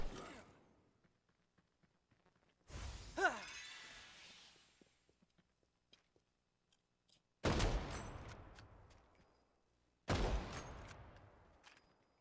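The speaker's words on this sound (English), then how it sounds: "Ducky and Karma keep shooting at each other from afar." Gunfire in a Final Fantasy 7 battle royale match, with players trading shots from a distance: three separate bursts of shots with a glassy, shattering edge, spaced several seconds apart and separated by near silence, heard with no talking.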